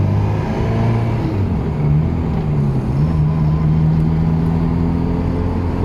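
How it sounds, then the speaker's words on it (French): A Ferrari 348 TS sports car driving, heard from inside as a steady engine drone with a slight rise in pitch partway through, continuous and moderately loud without any speech. "Allez, on est parti faire un petit tour dans la Ferrari 348 TS."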